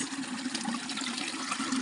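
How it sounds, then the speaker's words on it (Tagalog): Strong mountain water flows in a dense, continuous rush, loud and close, with no voices over it. "Ito may tubig dito"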